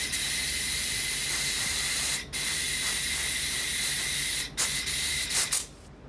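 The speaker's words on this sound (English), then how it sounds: "Send a bit more carb cleaner through it." Carb cleaner sprays through the carburetor of a Honda HR194 lawn mower as a loud, steady, close hiss in long bursts with brief breaks, ending in a few short puffs.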